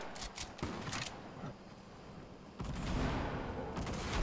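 Explosives go off in a Fortnite match, with sharp bursts early on and then a heavier rumbling blast that lingers, loud and close.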